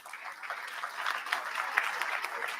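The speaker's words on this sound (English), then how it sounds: "Huge round of applause, guys." At a summit event, the audience in the hall claps in a sustained, even round of applause, moderately loud and slightly distant, building a little as it goes, with no speech over it.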